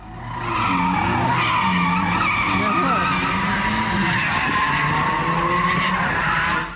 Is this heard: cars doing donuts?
yes